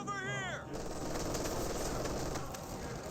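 Sustained suppressing machine-gun fire from an M242 in a Company of Heroes 2 battle, a dense continuous crackle of rapid shots with a faint whistling tone at the start.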